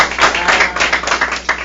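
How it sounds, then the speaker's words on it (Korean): Audience at a Korean book forum for aspiring authors claps for the guest author, a short burst of dense, close applause with uneven peaks lasting under two seconds. "박수 한번 드릴까요?"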